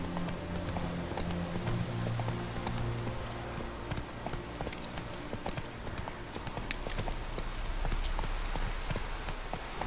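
Geralt's horse Roach gallops along a road in The Witcher 3, hooves clip-clopping in a steady quick rhythm under a continuous bed of game ambience and music.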